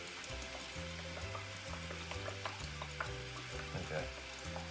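Ground beef for cheeseburgers fries in a pan with a soft, continuous sizzle and occasional scraping stirs, fairly quiet and close, with no speech over it.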